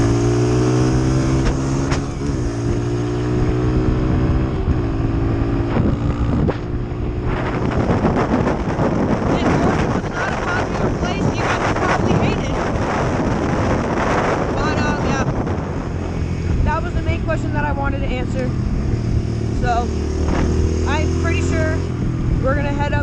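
Dirt bike ride on a motocross machine: a loud, continuous engine drone with revving pitch sweeps, heavily buffeted by wind noise on the microphone throughout.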